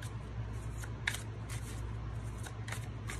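A Slavic Legends tarot deck with a soft rose-petal finish being shuffled by hand, quiet close riffling and card flutters in several soft bursts over a steady low hum, with no talking.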